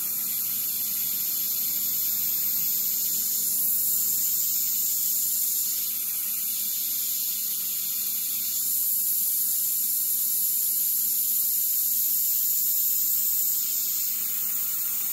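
An airbrush sprays paint for a space galaxy artwork, giving off a steady, continuous airy hiss that holds at an even level throughout with no talking.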